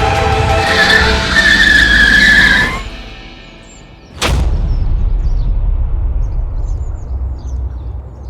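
Car tyres skid loudly with a sustained high squeal for a few seconds, fading into a lull before a sharp burst and continued rumbling vehicle noise.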